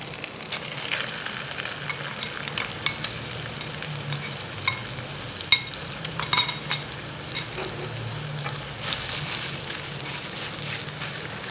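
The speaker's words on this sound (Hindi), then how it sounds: "कीमे का कलर चेंज होने तक इसको भून लेना।" Minced chicken keema fries in a pan with garlic and ginger, a steady sizzle that runs throughout with occasional clinks and scrapes of a stirring utensil.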